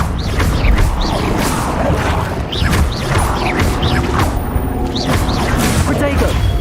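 Fire spell cast repeatedly in Hogwarts Legacy combat, with bursts of whooshing flame and crashing impacts over a dense, loud game mix, several blasts recurring in quick succession.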